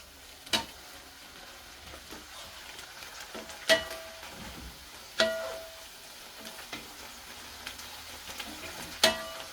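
Broccoli and string beans sauté quietly in a pan, a soft sizzle underneath while a utensil clacks and scrapes against the pan in several sharp, irregular strikes.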